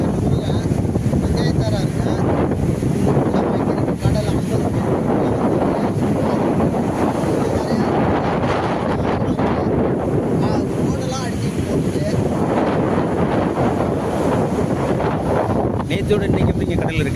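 Rough sea surf pounds the shore at Puthupettai beach while strong wind buffets the microphone, a loud, continuous wash of breaking waves and gusts with no pauses.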